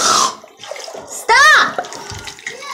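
Water gushes and splashes out of a light blue balloon as it is cut open, a burst of pouring noise midway with a voice and other talk around it.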